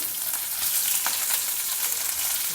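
Cumin seeds, sliced ginger, sliced green chilies and onion fry in hot oil with a loud, steady sizzle that holds evenly throughout, with faint stirring clicks and no voices.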